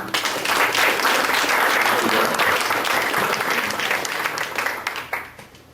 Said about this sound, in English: So let's give a big round of applause to Chris Kochmanski.